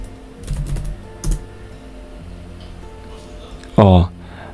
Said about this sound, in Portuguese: vou clicar e digitar e colocar o nome